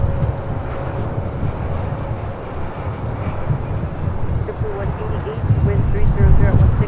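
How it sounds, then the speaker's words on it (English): A United Boeing 757-200 arriving on runway 24 left at LAX, with a low jet rumble that swells toward the end under gusty wind noise on the microphone. "United 757-200. Next arrival on 24 left."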